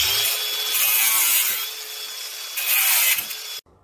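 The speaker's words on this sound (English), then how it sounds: "We're just going to cut these nails off." Angle grinder cutting off nails poking through a garage wall, a loud continuous high-pitched grinding hiss, close up, lasting several seconds with no talk, then stopping abruptly.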